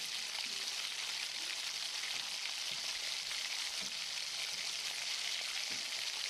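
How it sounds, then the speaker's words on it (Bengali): A large tomato with a pinch of black cumin (kalo jeere) fries in hot oil, giving a steady, dense sizzle that carries on unbroken throughout, with no voices over it. "একটা বড় সাইজের টমেটো। টমেটোটা একটু ভেজে নিতে হবে।"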